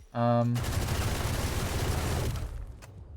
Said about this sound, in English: If you wallbang right, it's also gonna hit this.